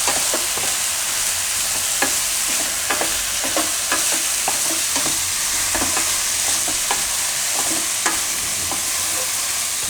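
Methi and eggplant curry is stirred in a pan, with a soft steady sizzle of frying beneath repeated scraping clicks of the spoon against the pan, no talking.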